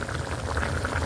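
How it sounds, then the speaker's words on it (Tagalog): Water boils steadily in a pot for miswa soup with patola and dried anchovies, giving a close, continuous bubbling roil with no talk. "Ayun na po siya, kumukulo na po."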